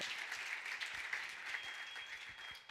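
Steady applause from a church congregation during an evangelical sermon, a soft continuous wash of many hands heard at a distance.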